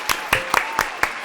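About six evenly spaced hand claps, close and distinct, with a brief pause between each.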